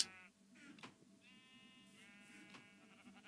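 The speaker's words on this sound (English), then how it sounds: "here's my sheep farm that I use on this world" Sheep bleat repeatedly on a sheep farm in a Minecraft-style block-building game, several overlapping wavering cries close by over a low background murmur.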